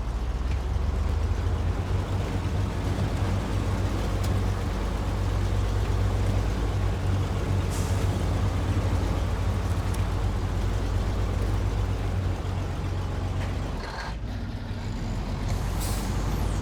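Fleet Star truck with a trailer attached in the off-road driving game Snowrunner, its engine holding a steady low rumble throughout with a brief hiss like an air brake release and occasional higher clanks, no talking.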